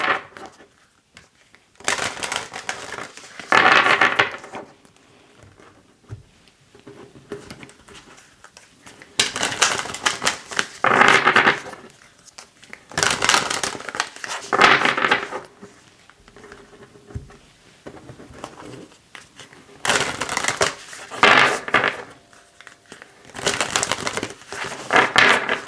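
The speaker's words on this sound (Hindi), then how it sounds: "ओके, हम आपकी कार्ड्स को शफल करेंगे।" Tarot cards shuffled by hand in several separate bursts of rapid papery riffling and rustling, each a few seconds long with short quiet gaps between, fairly close and with no talking.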